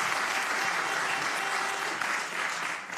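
Audience applause greets panel participants at an Ethereum layer-two conference in Amsterdam, a dense, steady clapping wash that holds for the full three seconds and fades slightly at the end.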